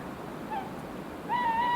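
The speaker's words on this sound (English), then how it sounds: "rode on the back of the midnight owl, who flies to and from the town" An owl hoots as a sound effect during a children's story reading, giving two soft hoots over quiet, hissing background noise, the second longer and wavering.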